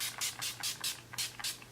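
Urban Decay All Nighter setting spray sprayed onto a face in a run of about six quick, close hissing bursts, each lasting a fraction of a second, with a faint low hum underneath.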